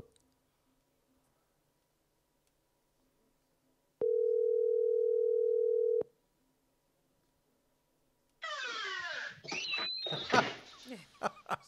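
A telephone line in a radio studio gives a single steady dial tone lasting about two seconds, then a harsh burst of line noise and crackle follows as the call connects.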